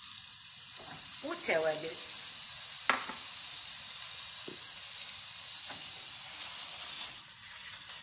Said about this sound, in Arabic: ندير البصل يتقلى، هذا اللي نديره في الحشوه اللي نعمر به البطاطا، ونزيد عليه اللحم